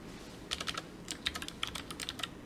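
Code being typed on a computer keyboard during a React front-end programming lesson: quiet, irregular clusters of light key clicks with brief pauses, close and alone without talk.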